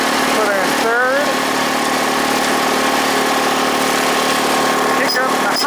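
A Bolens GroundsKeeper tractor engine runs steadily after a cold start, a loud, close mid-pitched idle with a brief rising rev near the start and a voice faintly over it.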